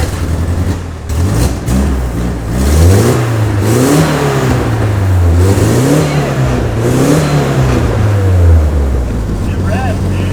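A Nissan 240SX engine revs up and down repeatedly, close and loud, in rising and falling sweeps under steady idle rumble, with people talking over it.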